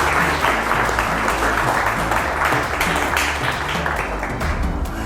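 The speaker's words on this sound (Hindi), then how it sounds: "तो हमारी ऑडियंस के लिए जोरदार तालियां हो जाए" Loud, enthusiastic clapping from a Class 7 school audience at a classroom quiz competition, a close, dense burst of many hands that holds steady for several seconds with a low hum beneath.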